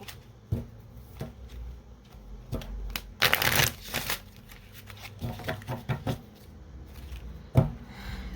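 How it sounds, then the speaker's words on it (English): Playing cards shuffled by hand during a quiet reading session, giving a series of short papery riffles and taps with a louder crackling burst in the middle, close and fairly soft. "I'm going to shuffle."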